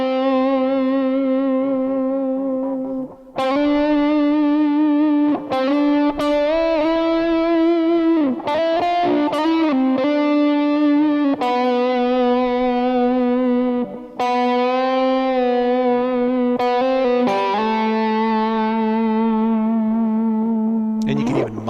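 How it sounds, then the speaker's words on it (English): Heavily distorted electric guitar in drop D tuning plays sustained bar chords and notes with bends and vibrato, loud and continuous with brief gaps between phrases, and no voices over it. "I'll put on some heavier distortion."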